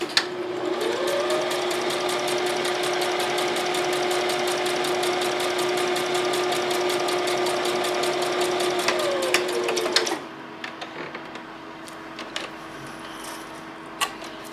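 Sewing machine running steadily for about ten seconds while stay-stitching across the shoulders of a rib knit long sleeve top, a close, continuous whirring rattle that stops abruptly, followed by a few faint handling clicks.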